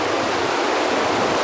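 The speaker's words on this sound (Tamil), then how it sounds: "இந்த தண்ணியோட சவுண்டையும் இந்த தண்ணி ஓடுற அழகையும் நீங்கள் பாருங்கள்" A mountain river in flood rushes through a forest, heard as a dense, steady roar of water, loud and unbroken from start to finish with no voices.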